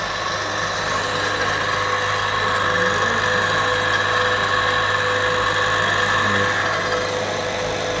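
An asynchronous-motor water pump runs steadily with a constant mechanical hum and whine, loud and unbroken throughout with no pauses.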